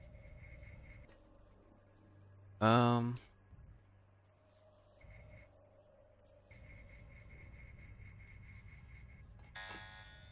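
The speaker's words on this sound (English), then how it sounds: "Just dropping down set off the alarm" An alarm sounds in the Deus Ex video game, a loud rising electronic siren sweep that bursts out once and briefly returns at the end, amid game hum and someone talking.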